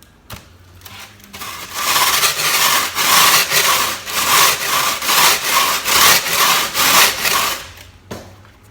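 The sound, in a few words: sandpaper on a block smoothing wooden model boat hull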